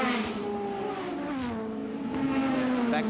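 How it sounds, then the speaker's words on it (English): A touring car at Lakeside in 1989 roars past down the start-finish straight, with a strong engine note that sweeps slowly downward. Race commentary sits underneath. "Brock's car has got a good bit of top end down the start finishing straight."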